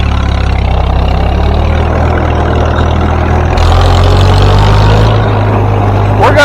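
An 85-year-old vintage Farmall tractor running, a loud, steady, low engine drone close by that holds throughout with slight shifts in pitch and intensity.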